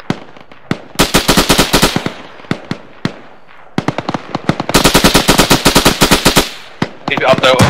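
Rapid automatic gunfire during a military exercise, loud and close, coming in long sustained bursts split by scattered single shots, with voices calling out briefly between the volleys.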